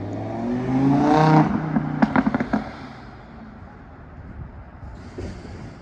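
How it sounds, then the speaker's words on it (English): A Lamborghini Huracan sweeps past with a loud swelling engine roar, followed by a quick burst of sharp pops and crackles as it recedes, then a low fading rumble. "That's a beautiful Lamborghini Hurricane."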